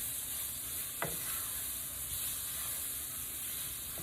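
A roux is stirred in a pan on the stove over lowered heat. A soft steady sizzle and hiss runs throughout, with one brief sharp scrape of the spoon near the start, no talking.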